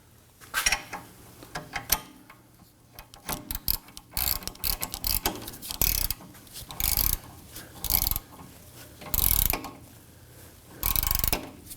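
A ratchet tightens the rear sway bar link on a 2018-2024 Toyota Camry, giving rapid clicking pawl bursts in repeated short strokes, close and crisp, with pauses between pulls.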